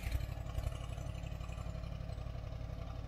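An old engine runs at idle on a machine clearing ground by an 1886 watermill, a low, steady, throbbing rumble with an even beat, close and continuous with no voices.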